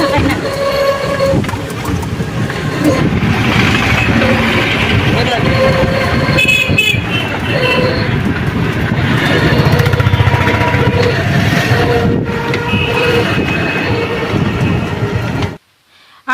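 A train runs through a railway station in Bangladesh or India, a loud, steady rumble and clatter that fills the whole stretch before cutting off at the end, with people talking over it.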